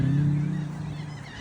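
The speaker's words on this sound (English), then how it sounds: "You're a beautiful bird." A pet bird with two white tail feathers gives a loud, sustained honking call close by, the note fading slightly over a second and a half, with no talk over it.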